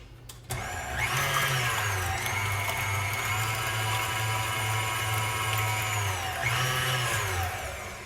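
An electric appliance whirs as it mixes gluten-free, nut-free chocolate muffin batter. It starts with a click, runs steadily for about six seconds with its pitch sagging and rising again, then winds down.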